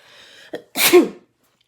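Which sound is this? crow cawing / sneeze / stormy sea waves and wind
sneeze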